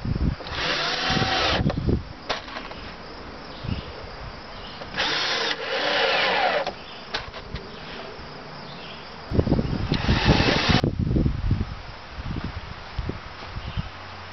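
A battery drill driving screws into a homemade solar panel frame, with several loud, close bursts of whirring separated by quieter handling, knocks and rustles.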